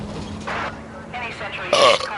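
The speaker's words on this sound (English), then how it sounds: "I burped like 20 times in the last 10 minutes." A person burps during a game of LA Noire, a short throaty belch that rises near the end over low background sound and talk.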